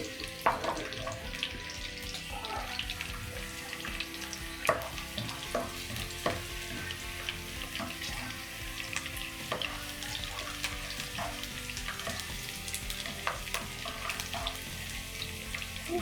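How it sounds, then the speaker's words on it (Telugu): Finely chopped garlic fries in hot oil for masala pasta: a soft, steady sizzle with scattered spatula clicks and scrapes, fairly quiet, with faint background music and no talking. "వెల్లుల్లి పొట్టొలిసి సన్నగా తరిగి పెట్టుకున్నాను, ఇవి వేస్తున్నా"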